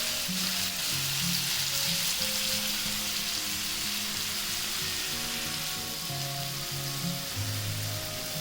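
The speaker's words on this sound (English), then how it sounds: "You see our prawns are getting cooked" Prawns fry steadily in hot ghee for a Kundapura ghee roast, giving a dense, even sizzle that holds at a constant level throughout, close up and with no talking.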